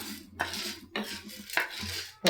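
Half a cup of chana dal dry roasted in a pan for temple-style puliyodharai powder, a spoon scraping and clinking against the metal in a few sharp strokes with rustling grains between them, close up with no talk.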